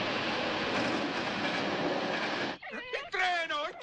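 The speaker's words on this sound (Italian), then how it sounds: "Il treno, il treno!" A train passes close by with a loud, dense rumble for a couple of seconds, then cuts off abruptly as excited voices shout over the quieter aftermath.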